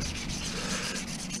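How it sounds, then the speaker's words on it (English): Steady, continuous abrasive rubbing of sandpaper on an AMG car rim, close up, with no voices. "So I'm going to finish sanding this up"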